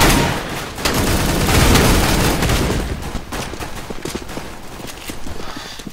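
Dense, rapid gunfire bursts fill a Counter-Strike: Global Offensive match, loud and sustained at first, then thinning into scattered sharp shots.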